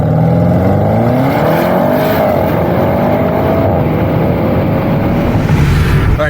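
Stock Audi RS6 Avant running on 91 octane, its engine droning loudly from inside the car during hard driving, with rising and falling tones as it pulls through the gears.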